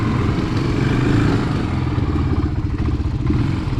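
A four-wheeler ATV engine rides through rain and mud, its dense mid-range drone loud and close. It holds steady with a rough clatter running through it for the full stretch, and no voices come through.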